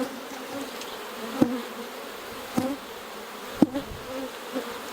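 Honeybees buzz steadily around an open hive, a dense close drone with a few louder passes as single bees fly near, and no talk.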